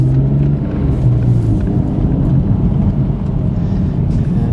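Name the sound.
Car with VF Stage 2 supercharger kit driving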